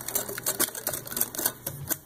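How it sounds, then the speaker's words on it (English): A whisk beats a sugar and flour mixture into eggs for a homemade pecan pie, making quick rhythmic clicking strokes against the bowl, close and steady. "add the sugar and flour mixture to the eggs and whisk that together till it's well combined"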